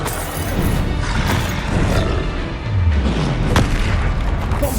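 A Bombarda spell blast in the video game Hogwarts Legacy, heavy booming explosions with rumbling low swells and sharp cracks, loud and close, layered over steady background noise with no voices.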